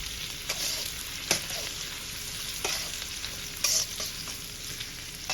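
Onions frying in a pan over medium heat give off a steady, close sizzle, with a few sharp clacks of a spoon or spatula stirring them through the pan.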